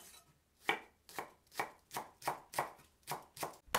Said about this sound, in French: J'émince un oignon.